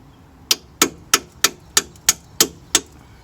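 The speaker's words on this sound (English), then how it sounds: "I'm gonna use some kind of like a socket or extension so I can hit on it." Hammering on a car's front strut assembly through a metal socket extension during a front strut and sway bar link replacement: eight sharp, evenly spaced metallic strikes ringing close and loud, with no talk.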